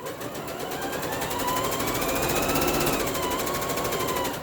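A sewing machine chain piecing minky blanket blocks, running in a steady close rapid stitching whir that swells slightly and holds for the whole stretch with no talking.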